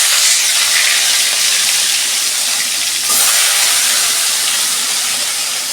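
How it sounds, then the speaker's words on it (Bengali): Fish fry in hot oil with a loud, dense, continuous hiss close by, swelling slightly about halfway through and holding steady to the end. "আমি মাছগুলো ভেজে নিই"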